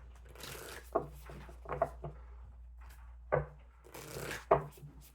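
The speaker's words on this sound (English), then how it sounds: "Two more shuffles." Moon tarot deck being shuffled by hand, several quick riffling bursts and soft card slaps spaced irregularly over a few seconds, close and fairly quiet.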